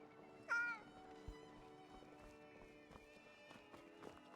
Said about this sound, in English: we're gonna pet the cat.